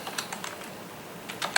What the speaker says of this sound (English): So I'm going to type in his name.